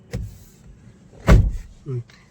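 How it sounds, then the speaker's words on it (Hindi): An MG Windsor EV power window closes with a short whirring motor hum, preceded by a knock and a louder thud close by, and the three sounds are spread over about two seconds. "इसको और खोल के विंडो बंद करो"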